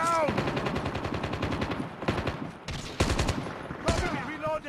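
Rapid machine-gun bursts and sniper shots from Call of Duty gameplay, loud and close, in dense rattling volleys broken by short pauses, with brief game voice callouts at the start and near the end.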